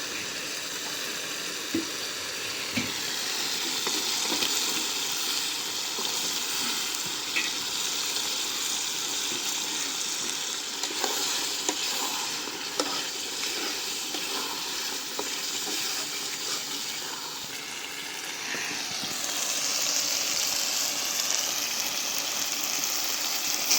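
Baim eel fish frying in a pan with melted tomato, onion and spices, a continuous close sizzle with intermittent stirring clatter, the hiss brightening in the final seconds.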